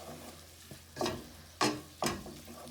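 Minced garlic frying in a pan while eggplant is cooked, quiet sizzling broken by three short bursts of stirring or scraping, each swelling and fading.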